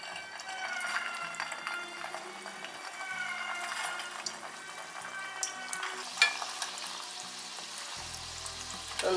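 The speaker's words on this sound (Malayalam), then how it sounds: "ഓയിൽ നല്ലപോലെ തിളച്ച് വരുന്ന സമയത്ത് ലോ ടു മീഡിയം ഫ്ലെയിമിലിട്ട് ഓരോന്നായിട്ട് ഇട്ട് കൊടുക്കാം" Sago (sabudana) vadas frying in hot oil over a low to medium flame, a quiet steady bubbling sizzle with faint crackles and occasional clinks, no voices.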